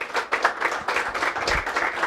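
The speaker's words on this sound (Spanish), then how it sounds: "Démosle un aplauso al Señor" A church congregation claps for the Lord during a service, loud and close, with uneven bursts from many hands in a lively rhythm and a faint low thump underneath.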